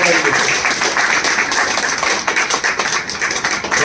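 An audience at a literary workshop claps in a dense, loud, sustained burst that carries on throughout, with a voice faintly audible beneath.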